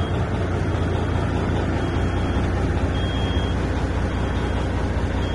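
A semi truck's diesel engine idles steadily right after starting, a dense, constant low rumble filling the whole stretch without pause, close to the microphone, with no talk over it.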